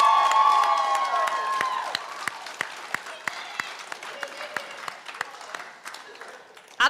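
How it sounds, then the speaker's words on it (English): Applause and cheering from the audience at a 2020 high school graduation ceremony for the graduating class, loud at first and then thinning out to scattered sharp claps before fading. "Ladies and gentlemen, a round of applause for our graduating class of 2020."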